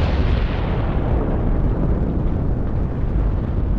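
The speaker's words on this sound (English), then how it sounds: "The ground shook with a deafening roar, followed by an explosion that rocked the entire island." A deep, loud explosion rocks an island, a sustained rumbling roar with heavy low-end boom that stays dense and powerful for several seconds without letting up.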